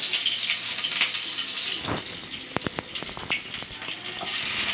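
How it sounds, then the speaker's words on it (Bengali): Onions with a little water sputtering in hot oil, a close, dense sizzle with sharp popping crackles and spits scattered through the middle and end, and no talking. "পেঁয়াজের সাথে সামান্য পানি ছিল, হ্যাঁ, এই জন্য তেলটা ঠিকতেছে"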